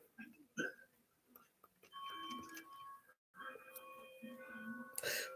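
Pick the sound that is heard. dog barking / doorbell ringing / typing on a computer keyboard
doorbell ringing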